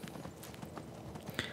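Horse hooves clip-clopping in the video game Skyrim, a steady run of soft rhythmic hoofbeats under a constant background hum, with no voices.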